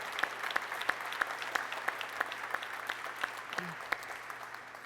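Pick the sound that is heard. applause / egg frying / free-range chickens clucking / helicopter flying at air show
applause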